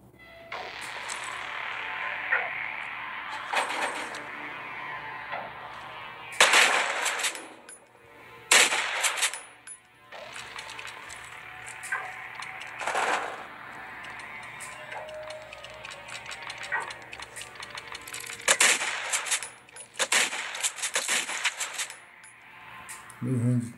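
Gunfire from a video game shooting round: repeated bursts of shots in clusters across the round, loud against a steady bed of game noise and hum, with gaps between volleys.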